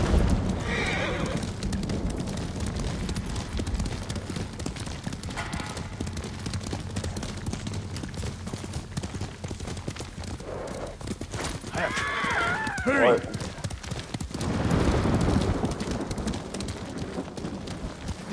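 A horse gallops in Ghost of Tsushima with a steady, close drumming of hoofbeats and a loud whinny partway through, heard over a continuous outdoor ambience.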